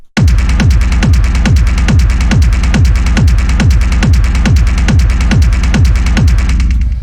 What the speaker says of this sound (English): this is a pretty standard sort of hard techno kick.